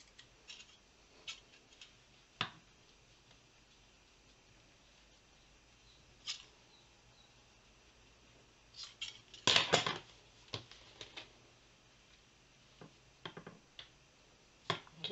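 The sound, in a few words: cutting a piece of paper for a craft project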